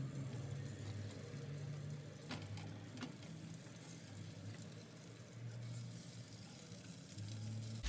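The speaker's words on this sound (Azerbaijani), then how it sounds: "İndi biberlərimizi günəbaxan yağında və qalın tavada qızardacağıq" Red peppers fry in sunflower oil in a thick pan, a soft, steady sizzle with occasional faint crackles, quiet and close.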